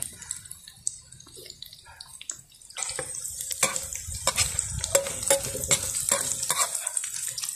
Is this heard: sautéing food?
yes